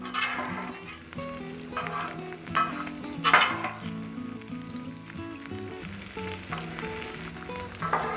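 Onions sizzle on a Blackstone flat-top griddle during a breakfast cook, a soft continuous frying hiss with a spatula clatter partway through and steady tonal sounds running underneath.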